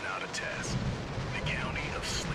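Radio static crackles and hisses while a radio is tuned in a video game, a dense, rough noise with brief whistling sweeps and chirps over a low rumble, with a voice talking over it.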